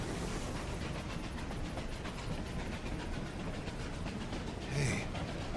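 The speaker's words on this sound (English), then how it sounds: "Here comes the train." A train rolls in across the Western landscape of Desperados III, a low, steady rumble of wheels and rail noise building at moderate distance, with a brief louder clank near the end.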